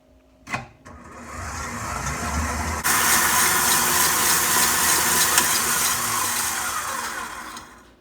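An electric mixer beats Belgian waffle batter, starting with a bump and lower whir, then jumping to a loud, steady high-speed roar that runs on alone.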